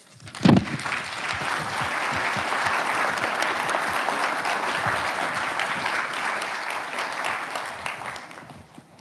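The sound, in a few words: audience applause welcoming the speaker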